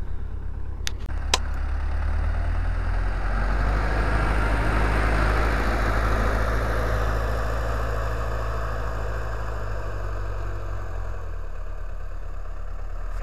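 A T-40 tractor runs steadily under load while plowing a field with a homemade plow, its low engine drone continuous and close, with a couple of brief clicks near the start.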